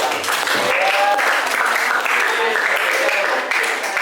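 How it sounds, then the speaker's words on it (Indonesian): A classroom full of people claps steadily for several seconds, a dense, even patter of applause that never lets up. "Beri tepuk tangan pada kelompok 8."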